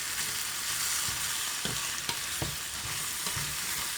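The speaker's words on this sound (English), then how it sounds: "Mix all this through" Pasta sauce for pasta alla zozzona being stirred in a hot pan, a steady broadband sizzle with a few soft scraping strokes of the spoon, close and continuous with no talking.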